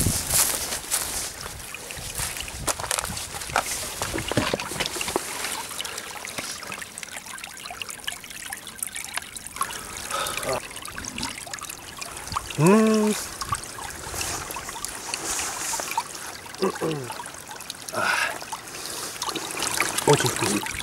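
Clean spring water trickles and dribbles steadily at close range as it is collected outdoors by a river in spring, with a few brief voice sounds over the flow.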